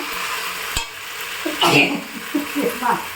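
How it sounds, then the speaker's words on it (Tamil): Curry masala, cinnamon and cloves frying in hot oil in a home kitchen, a steady sizzle with stirring scrapes and a sharp clack near the start, moderately close, with no talk. "எண்ணெய் வச்சுருக்கேன் கறி மசாலா போட்டிருக்கேன் பட்டை லவங்கம் போட்டுக்கிறேன்"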